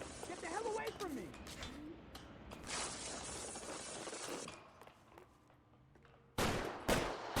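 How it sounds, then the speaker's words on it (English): Bursts of gunfire from a suspect shooting in L.A. Noire crackle in two loud broadband volleys, the second near the end, after voices talk over an opening stretch of game sound. "He's shooting!"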